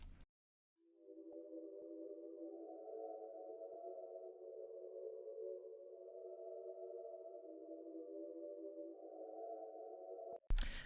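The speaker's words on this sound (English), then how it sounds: "The pad I chose to do that is the Baby Angelic pad" Baby Angelic synth pad from the Analog Lab Loophole kit, kept dry: a soft sustained chord that swells in and holds steadily for about ten seconds, alone and without talk, ending with a brief click.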